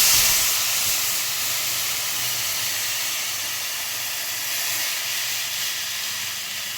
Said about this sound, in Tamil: இப்போ இந்த ஸ்டேஜில் புளி கரைச்சி ஊற்றிக்கலாம்.